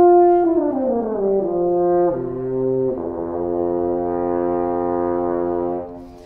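A French horn sounds a sustained brass tone that slides downward at first, then settles into steady held notes, loud and close, played alone with no talking.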